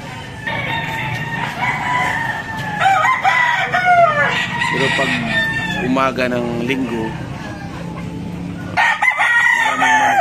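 Fighting cocks for sale at a Sunday market in Malasiqui, Pangasinan crow repeatedly and cluck close by, several roosters overlapping amid crowd noise while someone talks.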